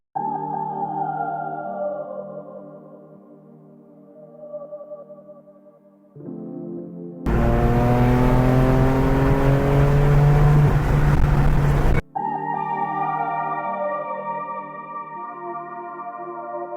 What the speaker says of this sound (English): I'll show you guys some highway rollers right now